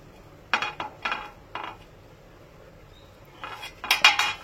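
A knife cutting through a potato chicken sandwich on a plate, a few short clinks and scrapes of metal against dishware in quick bursts, close and fairly quiet, with no talk.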